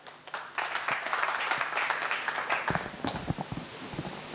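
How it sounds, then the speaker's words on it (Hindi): An audience at an honour ceremony for newly selected soldiers at a coaching institute breaks into steady applause, a dense patter of clapping that rises quickly and continues, with a few sharper claps and voices toward the end. "तालियां।"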